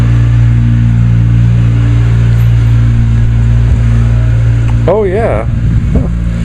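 A 1991 GMC Sierra pickup with a fuel-injected 350 engine and a five-speed manual runs at a loud, steady, deep idle close by. Someone speaks briefly near the end.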